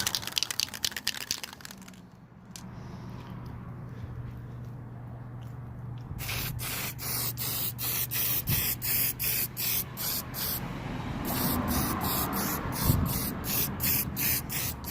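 A spray can sputters during the interior restoration of an EF Civic sedan. After a faint hiss, it releases a rapid series of short, close, spitting bursts, then longer uneven sprays toward the end.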